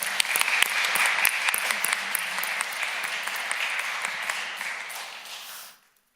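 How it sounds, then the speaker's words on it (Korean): A church congregation at a Sunday service claps for the choir after its hymn: steady, dense applause filling the hall for nearly six seconds before stopping abruptly. "성가대 또 다시 한번 격려와 수고하셨는데 박수 한번 하겠습니다."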